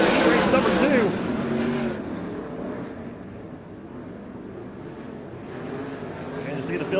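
USAC CRA sprint cars roar around Arizona Speedway during a heat race, engines loud and close at first, then fading into a distant drone before building again, with an announcer talking over the noise.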